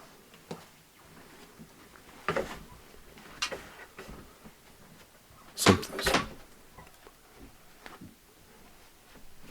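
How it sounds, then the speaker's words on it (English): A door swinging shut on its own inside an old house during a paranormal investigation, with a couple of soft knocks and creaks, then a louder double thud near the end, all in a quiet room. "followed by the door starting to close by itself"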